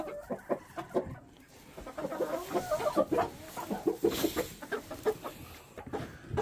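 Several chickens in a poultry yard with a rooster among them, clucking in quick, uneven bursts close by with no talk over them.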